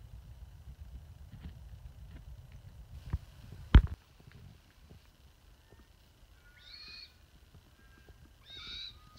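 A red-tailed black cockatoo calls on the outskirts of Mandurah in Barragup, Western Australia, near a lake. Two short, harsh cries sound at a distance, after a single sharp knock, over a low outdoor rumble.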